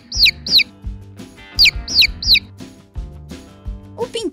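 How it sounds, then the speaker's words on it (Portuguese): A chick, a baby chicken, peeping in rapid high-pitched bursts, two quick chirps at a time repeated in clusters, close and clear over a faint background. "O pintinho."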